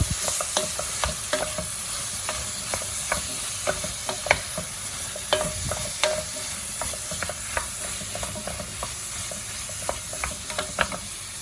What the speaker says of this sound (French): je vais aller rajouter mes pommes, lever un petit peu le feu et mettre mes pommes